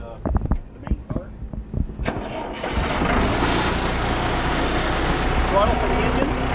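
A Schwing concrete trailer pump's engine is started: a few seconds of clicks and talk, then the engine catches and settles into a steady, loud, rumbling idle that carries on to the end.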